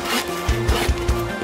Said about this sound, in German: Supertruck hat eine Säge benutzt, um die Bäume zu zersägen und Holzplanken zu machen